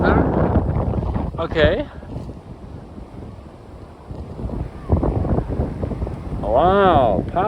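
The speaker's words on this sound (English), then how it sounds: "I tell you, it is quite windy." Strong gusting wind buffets the microphone on a stormy New Year's Day outdoors at a portable ham radio setup, a steady roar with rising gusts while someone speaks briefly.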